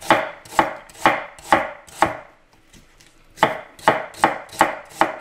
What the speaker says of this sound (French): D'émincer les oignons